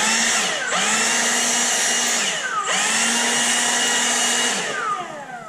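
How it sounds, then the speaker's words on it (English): A battery-powered leaf blower whirs loudly and close in a steady high-pitched whine, cut off twice briefly so the motor pitch dips and spins back up. "that's literally all I got to do to have the leaf blower ready"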